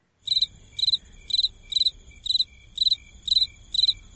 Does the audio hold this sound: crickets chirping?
yes